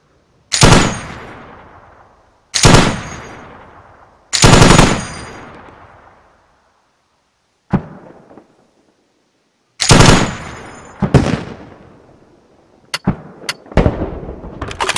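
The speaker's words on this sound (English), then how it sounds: "They keep that machine gun overwatching the hills above Jazara just in case" Machine gun fire in a combat video game, loud sharp bursts separated by pauses, each shot trailing off in a long echoing decay, with quicker clustered shots near the end and no talking.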